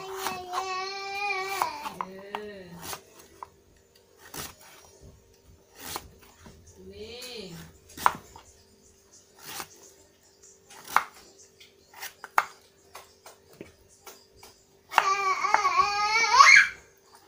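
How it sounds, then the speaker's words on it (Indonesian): Whole pumpkin is cut into pieces with a knife, sharp, irregular chopping strikes spaced a second or two apart, while a baby babbles and cries loudly at the start and end. "Lanjut kita potong-potong"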